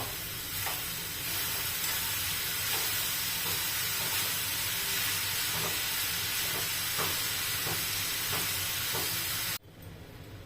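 Grated carrot sizzles in ghee in a pan for carrot halwa, with a loud, constant frying hiss and regular light spoon taps before it cuts off near the end.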